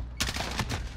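Gunfire in the video game Call of Duty: Modern Warfare comes as a short, loud burst of rapid shots that starts abruptly and fills the brief moment.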